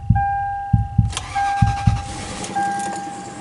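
A Lexus LS400 engine cranks in several rhythmic bursts, then catches and settles into a steady idle with a faint warning chime tone, heard close up with no voices.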